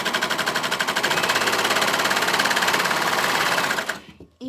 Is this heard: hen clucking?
no